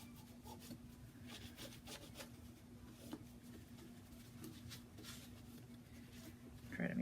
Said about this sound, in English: So I'm just gonna rub everything down one more time.